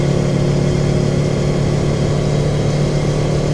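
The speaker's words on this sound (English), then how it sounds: "Motor's warmed up." Warmed-up Porsche 912 engine running steadily, a constant low mechanical drone with road and cabin noise, heard from inside the car with no talk.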